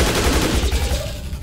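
Loud, close burst of rapid gunshots in the video game Dead Effect 2, firing in a quick repeating rhythm for about a second with no talk.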